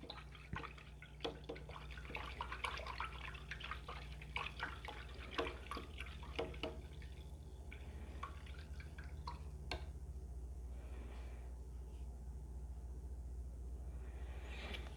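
A paintbrush is rinsed in a water jar during acrylic painting, producing faint, scattered splashes and drips over a low steady hum, busier at first and then fading to near silence.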